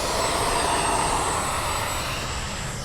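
A radio-controlled model airplane's engine on its maiden flight at an airfield, a steady high whine and drone held throughout, moderately distant and slowly fading toward the end, with no talk.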